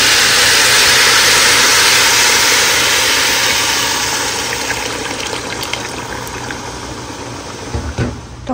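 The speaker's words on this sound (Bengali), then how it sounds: "এখন আমি পানি দিয়ে দিচ্ছি।" Water being poured into a hot pot of fried beef and rice for beef biryani, a loud continuous gushing pour that gradually softens and thins out, ending with a few bubbling splashes and no talking.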